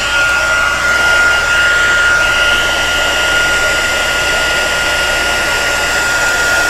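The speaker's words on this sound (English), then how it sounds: "Now I've got my heat gun down here, and I'll have to turn the heat gun on." A heat gun blows hot air over decorated cookies to melt powder on them, giving a steady, loud whooshing hiss with a faint whine that holds evenly throughout without pause.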